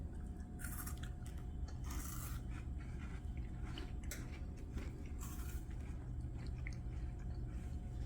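Someone quietly crunches and chews a Canadian chocolate wafer snack, a faint, steady crackling that runs throughout with no talking.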